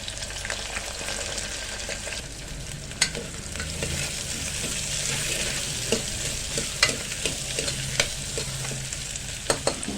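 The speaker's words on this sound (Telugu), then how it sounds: "ఆవాలు అయితే వేగిపోతున్నాయి. ఇందాక మనము ఉల్లిపాయలు పచ్చిమిర్చి అన్నాను కదా, అవి కూడా వేసేస్తుంది." Mustard seeds, onions and green chillies frying in a pan, a dense continuous sizzle with occasional sharp pops and stirring clicks, close and even throughout, no talking.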